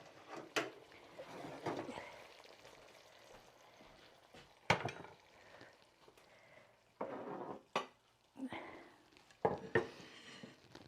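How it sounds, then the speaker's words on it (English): Serving utensils scrape and clink against dishes while cauliflower is dished up in a home kitchen, giving scattered sharp knocks and taps spread over the clip, with a few louder clatters toward the end. "So let's just dish up the cauliflower."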